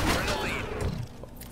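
Pump-action shotgun firing in Call of Duty: Infinite Warfare, the RACK-9, on PS4: a loud burst at the start with a metallic rack-like rattle, then a decaying tail, with faint talk in the background.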